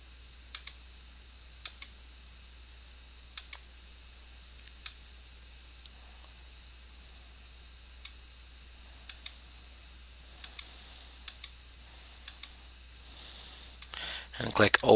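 Sharp, isolated computer mouse clicks, single and double, spaced irregularly over a quiet background hum while picture files are selected, ending with a louder burst of handling noise.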